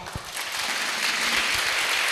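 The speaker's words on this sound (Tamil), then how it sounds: "ஒரு கை தட்டலாமா?" An audience at a church youth gathering breaks into applause, a dense wash of clapping that starts with a few hands and swells to steady, full applause throughout.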